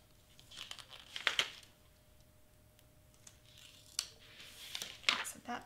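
Scissors snip through a piece of material for a Belle doll from Beauty and the Beast, with a few sharp crisp cuts in separate bursts and light rustling in between, close and fairly quiet.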